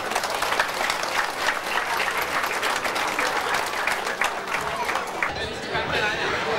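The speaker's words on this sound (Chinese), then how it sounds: "来鼓掌。" A crowd at a Singapore Chinese New Year banquet for a martial arts and lion dance school claps loudly and steadily, with chatter and voices mixed in before the clapping thins out.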